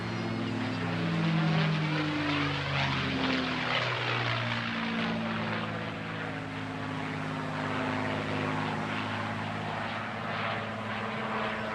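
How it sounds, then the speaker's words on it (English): P-51 Mustang propeller aircraft departing at the Bournemouth Air Festival air show, a loud continuous piston-engine drone with shifting pitch as it passes, close and powerful, no voices over it. "And now departing the P-51 Mustang."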